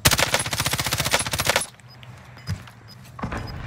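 Rapid automatic gunfire from an M13 rifle in a multiplayer shooter game, a loud, fast burst of evenly spaced shots for about a second and a half, then quieter scattered shots and ambient game noise.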